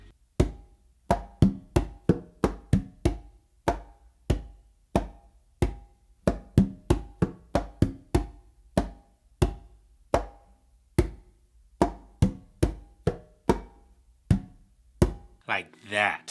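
Conga hand drum played in a palm-tip independence exercise, a steady run of close, sharp slaps and taps in an even rhythm that ends on a deep, open bass tone, heard alone without talk.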